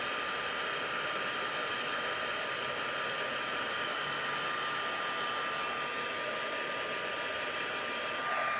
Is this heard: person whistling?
no